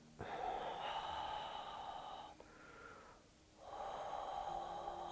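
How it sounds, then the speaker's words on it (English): Deep yoga breathing, a slow and steady audible inhale followed by a long exhale, soft and close, with a brief pause between breaths and no talking. "Let's take an inhale and exhale."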